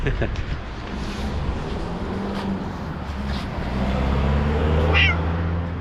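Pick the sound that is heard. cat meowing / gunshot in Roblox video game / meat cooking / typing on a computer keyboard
cat meowing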